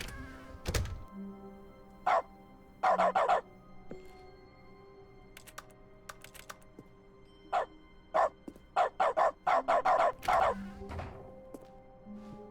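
Dog barks from Dog mode in The Stanley Parable: Ultra Deluxe come in short bursts, single and clustered, loud and close against a quiet game background with occasional thumps.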